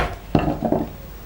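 A wooden chopping block set down once with a solid, hollow thud, followed by a brief knock or two as it settles, close and dry.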